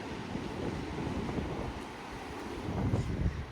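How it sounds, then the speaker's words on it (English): Strong wind buffets the microphone in a constant roar at Ladram Bay beach in Devon, UK, with surf washing faintly underneath; no voices. "But yeah, very windy."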